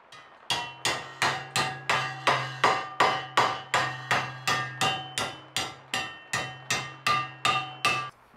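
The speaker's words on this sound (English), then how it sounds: "Then I'll bludgeon them to shape in my post leg vise." Steady run of about twenty-two sharp metal hammer strikes on a handmade steel cowbell being shaped in a post leg vise, evenly paced and ringing, close and loud with no talk.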